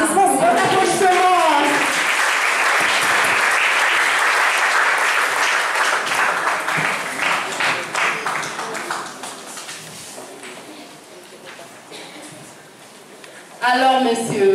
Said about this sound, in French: Bon applaudissement.